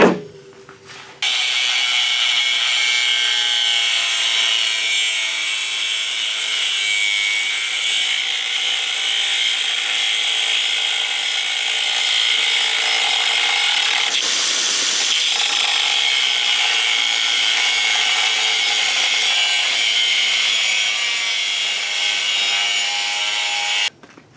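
Continuous loud sawing through a wooden sword blank clamped to a table, a steady power-tool cut running almost unbroken for over twenty seconds, close up and with no talking.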